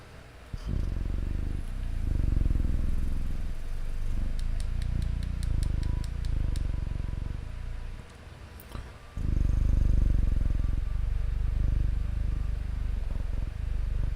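A person imitates a cat's purr into a close ASMR microphone, a low rumbling vibration held in long stretches with brief breaks, soft and intimate, with faint clicking and tapping in between.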